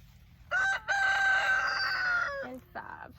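A backyard chicken near a garden of basil plants gives a loud, drawn-out crowing call followed by a short clucking squawk, close by and clear.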